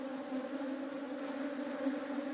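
Honeybees buzz steadily around hive frames during a beekeeping handling session, a continuous, close, even drone with no speech over it.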